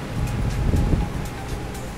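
Strong wind on a mountain ridge at Tarak Ridge roars steadily and loudly across the microphone, a constant rushing buffet with low rumbling gusts throughout, with clouds around.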